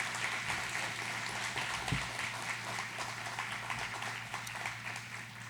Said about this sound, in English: Can we give Cammie another round of applause